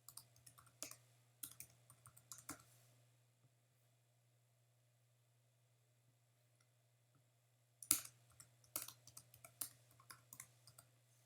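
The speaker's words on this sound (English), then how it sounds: "I'm going to type out all my words here." Clusters of light keyboard typing clicks in short bursts, then a long quiet pause before another burst of keystrokes, faint and close over a steady low electrical hum, with no talking.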